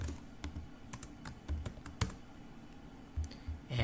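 Code is typed on a computer keyboard, with irregular close key clicks and small bursts of strokes separated by brief pauses in an otherwise quiet room.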